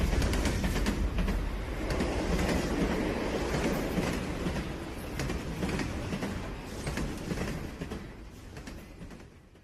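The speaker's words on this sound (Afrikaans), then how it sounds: "Toe die damp van die vinnige trein, wat tot by my hoogte opgestyg het, by my verby is en oor die landskap wegskuur" A fast train rushing past up close: a loud rumbling roar with rhythmic clickety-clack of wheels on the rails, gradually easing in volume as it moves away, with no voices.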